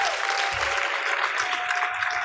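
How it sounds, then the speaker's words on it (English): A graduation ceremony audience for the Class of 2024 at AMS breaks into steady, dense applause from many hands, sustained and evenly loud throughout. "Let's give them a hand clap at this time."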